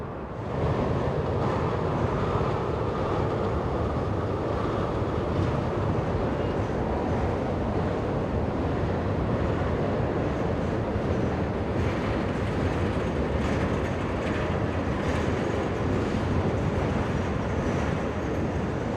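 Trains roll past in persistent, cold rain in Minneapolis, a loud and unbroken broadband roar of wheels and wet rushing noise that holds steady throughout, with no voices.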